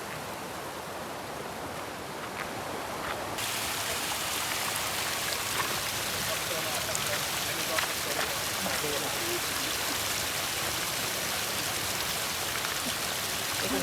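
A river stream flows steadily along a trail on the Dhodani waterfall trek in the Konkan, giving a broad, even rushing wash that grows slightly louder after a few seconds and continues unbroken.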